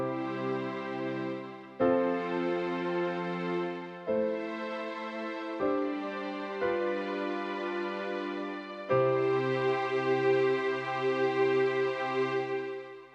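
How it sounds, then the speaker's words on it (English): Casio CT-X3000 keyboard playing a piano voice layered with mellow strings, a slow run of sustained chords and notes that change every couple of seconds, each struck attack blooming into a smooth held string pad, alone without talk. "we've got a piano voice layered with the strings"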